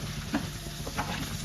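Tamarind leaf chicken fry being stirred in a pan, with a steady frying sizzle and soft scraping strokes of the spoon repeating close by.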